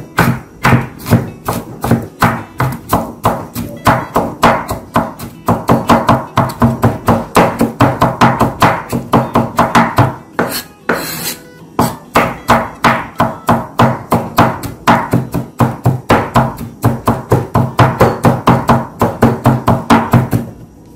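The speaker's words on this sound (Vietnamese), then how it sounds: "Gừng này mình sẽ băm nó nhuyễn, mình đập cho nó dập rồi mình băm nó nhuyễn nha." Kitchen knife on a cutting board crushing and mincing ginger and garlic, a fast run of loud, close chopping knocks in rhythmic bursts with one brief pause midway, no talk.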